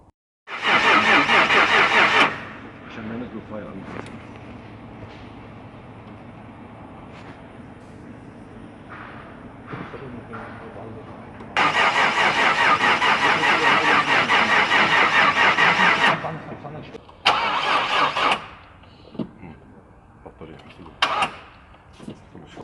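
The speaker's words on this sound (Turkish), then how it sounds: "Şu anda aracın marşına basacağız arkadaşlar." A Nissan GT-R R35 engine cranks and fires in a workshop with a loud burst, then settles into a quieter running hum, followed by a second long loud rev and several short bursts. Voices speak at times over the engine.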